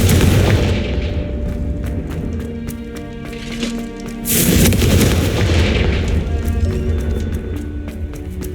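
Confringo spell explosions in the video game Hogwarts Legacy: loud, dense booming blasts that roll on continuously with a fresh surge partway through, with no talking.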